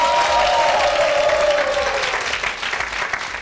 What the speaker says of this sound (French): Donc applaudissements pour vous-même.